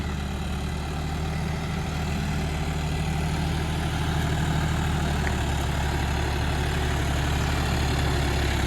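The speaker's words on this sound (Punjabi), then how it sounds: "ਹਲਾਂ ਤੋਂ ਬਗੈਰ ਟਰੈਕਟਰ ਫੇਰਦਾ ਹੈ" A heavy engine runs steadily nearby, a low, constant diesel rumble with a throbbing idle rhythm that never lets up.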